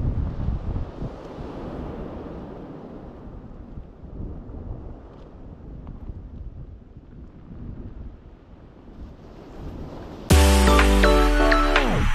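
Strong wind buffets the microphone out at sea, a continuous low rumbling roar with gusts that rise and ease, ending in a louder, sharper burst of noise.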